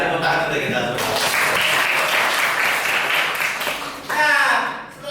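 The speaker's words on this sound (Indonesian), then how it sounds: "Oke, tepuk tangan untuk kita semua." Classroom applause for everyone after poetry writing, a burst of group clapping that holds steady for several seconds, then fades, with a brief renewed surge and voices near the close.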